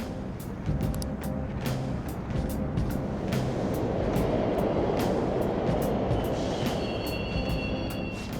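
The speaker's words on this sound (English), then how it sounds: "The trains are totally running!" A train runs through a subway station in the video game Persona 5 Royal, a loud sustained rumble and rush with rhythmic clacks that builds steadily, with no voices.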